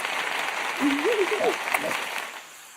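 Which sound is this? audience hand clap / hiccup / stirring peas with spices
audience hand clap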